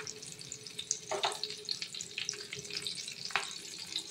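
Vegetable onion fritters (piyaji) frying in a pan over low gas, a steady close sizzle with soft bubbling and occasional crackles, no talking.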